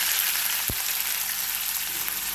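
Chopped onion frying in hot oil with cumin and mustard seeds makes a continuous loud sizzle, with one short low knock near the start.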